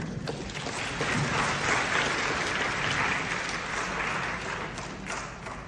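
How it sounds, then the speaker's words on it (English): A crowd applauds steadily for several seconds, a dense, even wash of clapping that stays loud throughout with no voices standing out. "A round of applause for you."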